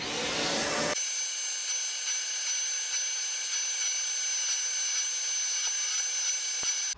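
A Hoover CleanSlate carpet spot cleaner switches on after a brief burst of noise, then runs with a steady, high-pitched motor whine until it cuts off abruptly at the end.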